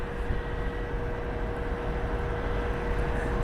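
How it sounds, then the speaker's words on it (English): An Airbus A319 airliner idles at the end of a runway at Columbus Glenn Airport, waiting for clearance: a steady, dense engine drone with a faint tonal whine, unchanging throughout and with no voices. "This A319 has been sitting at the end of the runway for about the last 15 minutes waiting for clearance."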